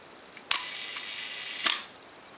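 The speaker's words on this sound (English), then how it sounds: "if we activate the shutter, the curtains move quickly" A Minolta SRT201 film SLR fires its shutter curtains: a sharp mechanical click, a short whirring hold, then a second crisp click about a second later, close and alone.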